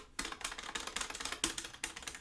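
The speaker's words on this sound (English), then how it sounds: "Buttons have good response. Very clicky." Buttons on a Mad Catz Street Fighter arcade fight stick being pressed rapidly, giving a dense run of sharp, close plastic clicks and taps in quick bursts.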